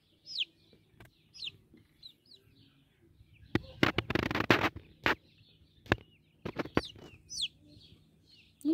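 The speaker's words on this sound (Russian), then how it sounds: "Мы смотрели сегодня цыплят породы синь-синь-дянь." Xin Xin Dian chicks and chickens give sparse, high peeps and soft clucks at close range, broken by a few short bursts of rustling and scuffling.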